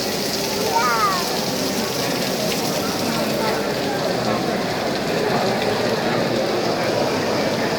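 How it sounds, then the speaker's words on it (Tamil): Steady rain falls outdoors after a funeral mass at a church, a dense even patter close to the microphone, with faint voices in the background. "திருப்பலி இறுதி ஆசிர் முடிந்த பிறகு அருமையாக மழை பெய்து கொண்டிருக்கின்றது."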